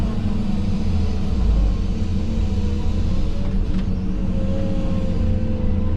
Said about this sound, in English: just got truck driver loading himself now. He's taking it straight from the belt